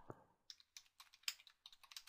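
Soft, quick taps on a small touchscreen or mini keyboard while entering values in Android game programming, about a dozen light clicks in an uneven rhythm, quiet and close.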